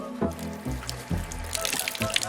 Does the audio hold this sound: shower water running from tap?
yes